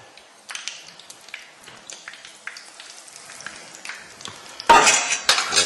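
Battered hake fries in a pan of oil on a Spanish cooking programme, with soft, scattered crackling that jumps to a loud, dense sizzle near the end as more fish goes into the oil.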